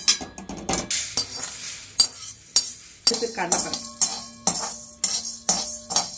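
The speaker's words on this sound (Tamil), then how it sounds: "அடுத்தது நம்ம கடலைப்பருப்பு வறுக்க போகிறோங்க" Chana dal dry roasting in a pan for Andhra-style paruppu podi gives a rhythmic series of sharp metallic scrapes and rattles, roughly twice a second, close by with no talk.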